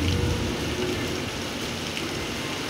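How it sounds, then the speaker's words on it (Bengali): Heavy rain pours steadily outside a home facing a Durga temple, a dense, even hiss close by with no voices, holding at a constant level throughout. "দেখো কত জোরে বৃষ্টি পড়ছে"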